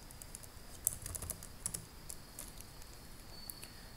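Quiet, sparse keystrokes on a computer keyboard, entering commands during a Linux install, with a few sharper clicks standing out against low background hiss.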